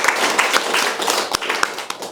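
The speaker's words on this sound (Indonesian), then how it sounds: "Sekali lagi kita beri tepuk tangan buat kita semua." An audience applauds at a campaign event, dense overlapping hand claps from many people, loud and close, sustained throughout.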